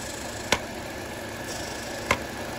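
A Mini Cooper engine idles roughly under a constant hiss, with a low uneven rumble broken by two sharp clicks or knocks about one and a half seconds apart.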